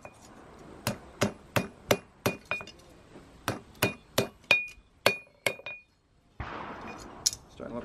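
A hammer strikes hot steel on an anvil while forging a roasting fork, about fifteen sharp, ringing metallic blows in an uneven rhythm, close and loud, ending in a short rustling noise.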